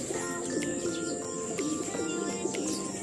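A pair of pet birds in an aviary, a hen apparently near egg-laying, call close by with repeated soft coos and short chirps over a steady background hum.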